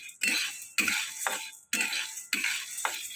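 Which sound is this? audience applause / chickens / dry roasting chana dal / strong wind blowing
dry roasting chana dal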